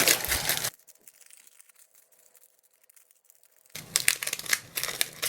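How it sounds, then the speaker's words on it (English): Aluminum foil being crumpled by hand, a loud crinkling burst at the start, then near silence, then a second run of sharp crackling crinkles near the end. "I'm gonna grab the foil and I'm gonna crumple it."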